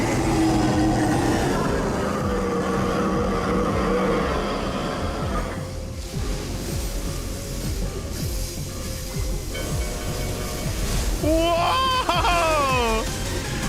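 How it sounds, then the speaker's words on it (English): A train bearing down in a Final Fantasy XIV trial: a heavy rolling rumble builds steadily, then shrill metallic screeching wails in rising and falling bends near the end, loud and close over game ambience. "The train dimension. You hear the scream of metal and it's coming closer."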